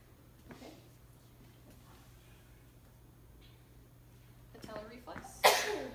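A single sharp sneeze bursts out near the end of a quiet room during a head-to-toe medical reflex exam, with faint movement and breathing.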